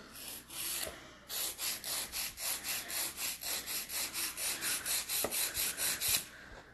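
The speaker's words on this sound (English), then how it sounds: "I'm just using Ugly Duckling's coarse file right now, which is a 100 grit file" A coarse 100 grit nail file rasps across fingernails in a steady series of about twenty even back-and-forth strokes, close and fairly quiet.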